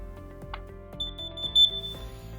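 A PG9913 wireless carbon monoxide detector gives a series of short, high electronic beeps in quick succession, fairly close and clear, over a quiet tonal background.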